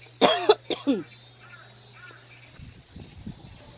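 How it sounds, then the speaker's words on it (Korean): A person coughs several times in quick succession, close and loud, followed by faint murmuring and soft rustling. "기침이 났어요."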